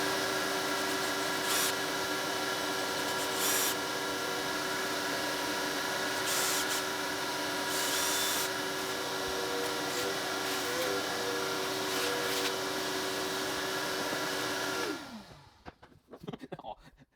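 A power drill bores holes into a wall for anchors, giving a loud, steady motor whine that runs unbroken for about fifteen seconds before cutting off, followed by a few faint clunks.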